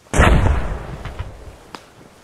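A thrown grenade detonates in an ARMA military shooter game: one loud, sharp blast that rumbles and decays over about a second, followed by a faint, distant pop.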